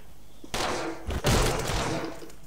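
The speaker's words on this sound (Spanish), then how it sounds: "Hay gente pegando tiros con escudos" Video game gunfire in Anger Foot, a sudden burst of loud overlapping shots followed by a heavier second volley, harsh and close with no talk over it.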